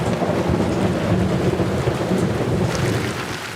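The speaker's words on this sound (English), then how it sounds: "As the first big storm of the rainy season hits the city" Heavy rain pours steadily during the first big storm of the rainy season over a beach neighborhood, with rumbling thunder beneath a dense, constant hiss, loud and close with no voices.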